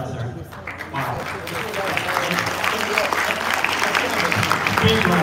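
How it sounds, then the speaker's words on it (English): An audience at a decorating class breaks into applause, a dense crowd clapping that swells and stays strong, with voices mixed in underneath. "Big round of applause"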